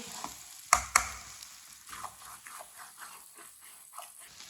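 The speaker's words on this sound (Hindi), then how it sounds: "इसे 2 मिनट के लिए दोबारा पका लेते हैं अच्छी तरह मिक्स करके" Carrot halwa mixed and cooked in a pan, with two sharp clanks of the spoon against the pan early on, then soft, faint scraping and stirring strokes in a slow, uneven rhythm.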